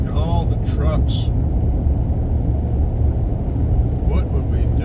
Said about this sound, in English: And again, look at all the trucks.